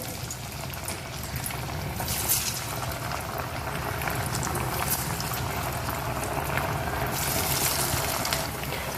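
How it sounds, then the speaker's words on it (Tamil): Jackfruit seed vadas deep fry in a kadai of hot oil, giving a continuous dense bubbling hiss at moderate level throughout, with no voices. "இப்போ நம்ம இந்த வடை எல்லாத்தையும் பொரிச்சு எடுத்துக்கலாம்"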